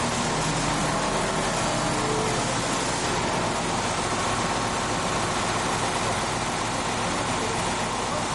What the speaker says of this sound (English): Place the idle switch on position, back to idle speed. Adjust the idle volume to between 800 and 900 RPM.